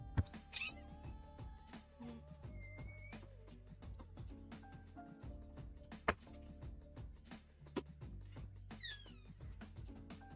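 A house cat meows at feeding time indoors, with a few short rising calls rising out of a busy, steady background of household sounds.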